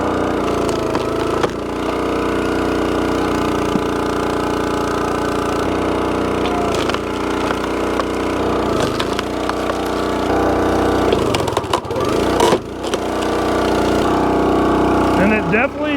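A 28-ton DeWalt firewood splitter works through a knotty log, its engine droning steadily at idle with hydraulic strain, while cracks and splintering wood snaps break through near the end.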